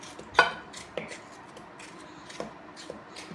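A knife chops tomatoes in a cooking pot, with a few sharp, separate cuts and a softer rustle between them, close and fairly quiet.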